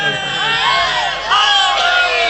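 A large crowd at a religious gathering chants a slogan together in loud unison, a sustained massed shout that swells, dips briefly and then rises again close by.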